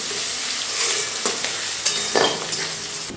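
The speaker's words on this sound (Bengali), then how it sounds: "এবারে গ্যাসের ফ্লেমটা মিডিয়ামে রেখে এই পেঁয়াজগুলো একটু ভালো করে ভেজে নিতে হবে" Chopped onion frying in a pan on medium gas flame for a spicy Bengali mutton curry: constant crackling sizzle, close up, broken by a few louder spatula stirs and scrapes against the pan, with no voices.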